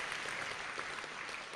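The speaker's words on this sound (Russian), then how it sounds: "Дайте аплодисменты Иисусу." Audience applause at a church sermon, a steady dense patter of many hands clapping at moderate volume throughout, with no voices standing out.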